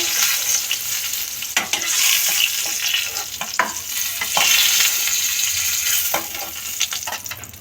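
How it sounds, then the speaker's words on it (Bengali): Pointed gourd (potol) frying in a pan gives a continuous loud sizzle, broken by sharp scraping and clacking as the pieces are stirred and turned, with no one speaking. "পটলগুলো একটু ভালো করে ভেজে নেব"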